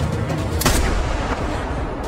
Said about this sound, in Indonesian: Tiba-tiba terjadilah penembakan.